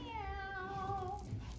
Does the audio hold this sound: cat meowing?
yes